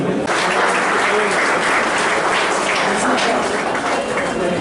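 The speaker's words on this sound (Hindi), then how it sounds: "सभी अतिथि भी एक बार तालियां बजाएं" An audience at a Lions and Leo Club cyber-awareness event applauds, a loud sustained burst of clapping from a crowded hall that continues evenly throughout.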